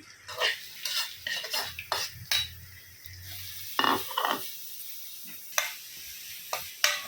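Chopped onions frying in butter in a pan, stirred with a metal spoon: irregular clinks and scrapes against the pan over a low, steady sizzle, close and unhurried, with no talking.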